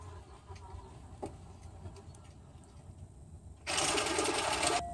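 A SuperDroid LT2/F Bloodhound tactical robot driving under a vehicle, a low mechanical motor hum with faint whine, then a sudden louder, harsher burst of drive noise for the final second.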